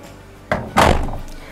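The large door of an LG F4J8JSP2S front-loading washing machine gives a short, close knock followed by a heavier thunk as it swings and closes, with a brief fading resonance afterward.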